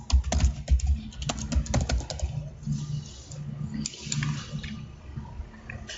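Quick bursts of clicking keystrokes on a computer keyboard as a complex password is entered, close and fairly clear, thinning out to a few scattered taps over a faint hum.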